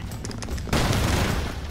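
RoboCop's gun firing in the side-scrolling action game Broforce, a rapid burst of gunfire that starts after a few short taps and then roars as a dense, loud, sustained volley to the end.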